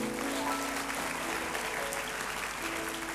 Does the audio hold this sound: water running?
no